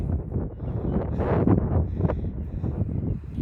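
Wind gusts across an open college campus, a steady close rushing roar buffeting the microphone throughout with no clear voices.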